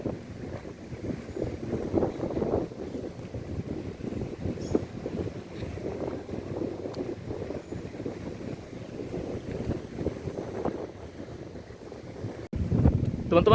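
Strong wind buffets the microphone at the Taipa ferry port in Palu, a steady, rushing roar that holds throughout with brief gusty surges.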